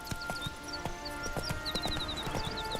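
Hooves of Roach, the horse in The Witcher 3, clip-clop in a quick galloping rhythm over soft game ambience, with a few short high tones over the hoofbeats.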